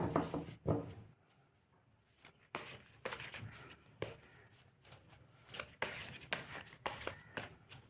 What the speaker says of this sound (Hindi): मैं आपके लिए शफल कर रही हूँ कार्ड